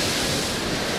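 Stormy sea waves at Alushta on the Crimean coast give a brief, dense surging roar with continuous wash and wind-like hiss, loud and close.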